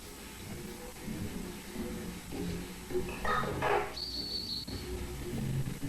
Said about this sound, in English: so that was the sound of a radio and some birds